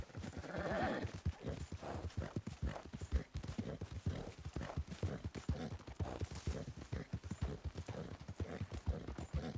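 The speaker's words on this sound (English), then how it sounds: "Does my horse usually make all these noises?" A horse in the video game Red Dead Redemption 2: rapid hoofbeats clatter in a steady galloping rhythm, close and loud, with occasional breathy snorts mixed in.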